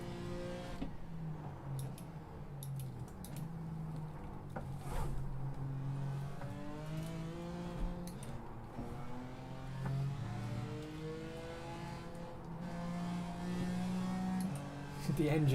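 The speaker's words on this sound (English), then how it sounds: "The engine sounds like it's going a lot faster than it's actually going." Race car engine in the iRacing sim at Monza, revving and shifting repeatedly, with rising and falling engine tones droning steadily through the clip and a few faint clicks over it.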